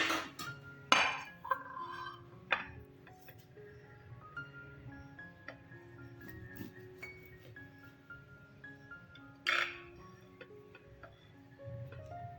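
A cheese tape sponge cake is cut with a knife on a plate, with a few sharp clinks and taps of utensil against dish over quiet, soft cutting sounds.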